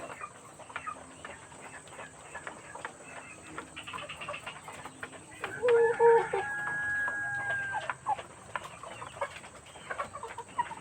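Mardi chickens, six birds in a farmyard, cluck steadily and close by, with one rooster's crow rising loudly in the middle before the clucking continues.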